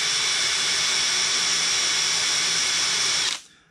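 Power drill with a number 30 bit bores through an aluminum spar on an RV-4 aircraft, one continuous high whine held steady for over three seconds before stopping abruptly.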